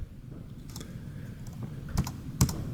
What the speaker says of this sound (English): Get rid of all the typing I put on.